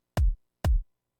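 Two punchy synthesized kick drum hits, evenly spaced about half a second apart, each a sharp click falling into a deep boomy low thump, loud and dry with silence between.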